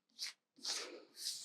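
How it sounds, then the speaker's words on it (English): Tarot cards shuffled by hand in quick papery bursts, three short riffling passes separated by brief pauses, close and fairly soft with no talk. "Let's go ahead and shuffle this again."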